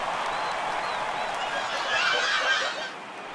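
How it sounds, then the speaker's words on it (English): A home crowd at a baseball game, Game 1 of the World Series, gives a sustained ovation of applause and cheering, swelling slightly before easing off at the end. "he receives a nice ovation from this home crowd"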